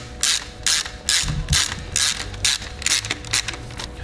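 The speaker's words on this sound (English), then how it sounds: "we'll get the pinch bolts tightened down on the forks, making sure they're done up to the correct torque setting" Repeated ratchet-wrench clicking while pinch bolts are tightened on the front forks of a 2024 Sur Ron Ultra Bee Black Edition electric dirt bike, about eight quick bursts close up with brief pauses between.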